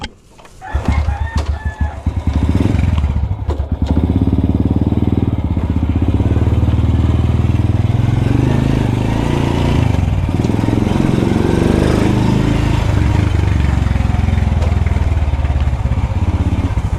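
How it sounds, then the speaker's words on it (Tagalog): A Honda Wave motorcycle engine runs loud and steady nearby, holding a constant drone for most of the clip after a brief start. A rooster seems to crow faintly in the background. "kaya magmumotor na lang tayo ngayon para naman magamit natin tong wave natin"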